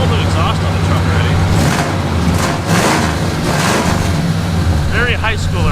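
Worn-out Ford F250 truck idling loudly through a new Flowmaster 40 exhaust, a steady deep rumble with a few rising revs throughout, people talking over it.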